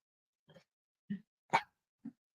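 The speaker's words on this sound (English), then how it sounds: "People don't want to hear you barking" A female pet dog gives four short, sharp barks spaced irregularly, the third loudest, with silence between them.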